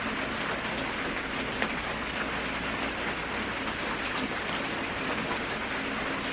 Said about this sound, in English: The rain is like really coming down